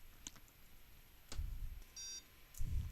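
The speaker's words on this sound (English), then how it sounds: "Okay, that's the beep. We're done." Electronic beep from an NXT robot brick signalling that a program download has finished, a single steady tone of about a third of a second standing clear of low background rumble and handling noise.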